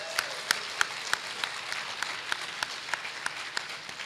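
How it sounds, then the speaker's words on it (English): Sustained applause from an audience at an academic research conference awards session, steady dense clapping with a few sharper individual claps standing out, no speech over it. "let's give them a round of applause."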